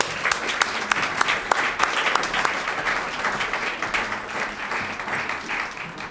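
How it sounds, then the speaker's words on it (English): Guests at a benefit dinner for the U.S. Marine Corps birthday applaud a women's club, steady crowd clapping with a few sharper individual claps standing out. The applause is loud and sustained and swells and dips gently for about six seconds. "how about one more round of applause for the Diamond Bar Women's Club?"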